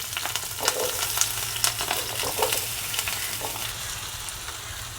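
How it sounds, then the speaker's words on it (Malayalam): Chopped potatoes drop into hot oil in a pan and fry with a loud, crackling sizzle. Quick stirring taps come early on, then the sizzle settles to a steady hiss. "ഈ ഓയിലിലേക്ക് നമ്മൾ നമ്മുടെ അരിഞ്ഞു വെച്ചുള്ള പൊട്ടറ്റോ ഇട്ട് കൊടുക്കുന്നു."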